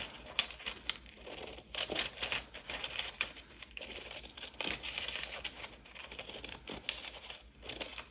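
Scissors cut old book pages, the paper crinkling and rustling in a run of quiet snips and crumples, close by and faint, with no voices.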